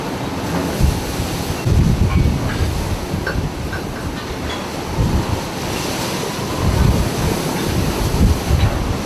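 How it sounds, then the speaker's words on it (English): Powerful storm waves crash near rocks in heavy surges, a loud rumbling roar with repeated swells and strong wind buffeting the microphone. "A small fishing boat passes powerful waves near the rocks."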